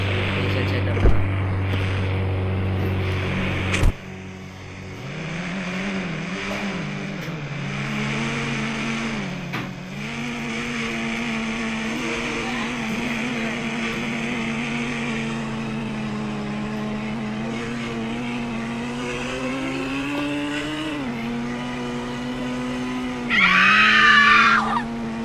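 A truck driving in a video game, its engine droning steadily with pitch rising and falling, a sharp knock early on and a brief harsh burst near the end.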